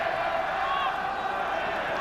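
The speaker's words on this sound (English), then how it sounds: "And it sounds like a big crowd." A big football crowd at a 1995 Raith Rovers UEFA Cup match, a dense, distant roar of massed voices under a commentator's talk.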